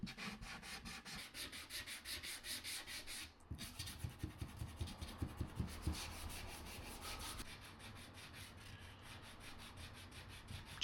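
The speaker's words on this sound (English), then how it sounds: "Just sanding, bit of hand sanding now." Steady back-and-forth rubbing of sandpaper on wood, a continuous scratchy hiss that turns into quicker rhythmic strokes midway, close up with no talking.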